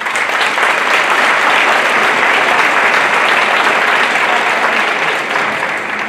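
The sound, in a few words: audience applause at school concert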